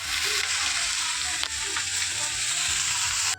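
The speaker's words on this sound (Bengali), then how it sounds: "ভাতটা ভেজে নিই" Cooked rice frying in a pan, a loud, steady hiss and sizzle filling the whole stretch, with a couple of faint knocks from stirring.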